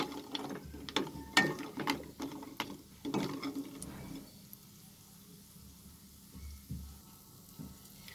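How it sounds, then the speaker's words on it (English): Vadis, lentil dumplings, frying in hot mustard oil until crispy: close, crackling pops and sizzle for the first few seconds, then settling to a quieter hiss. "we will fry these varis. So that it becomes nice and crispy."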